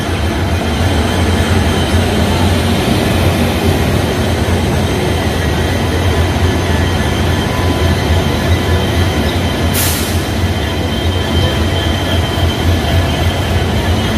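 The Howrah–Rampurhat Sahid Express pulls out of platform 2 at Bardhaman Junction with a loud, steady rumble of rolling coaches, wheel squeal and a brief sharp hiss near the end.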